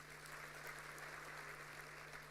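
A church congregation applauds during a Sunday sermon, a steady wash of clapping that sounds distant and faint, continuous throughout the brief moment with no voices over it.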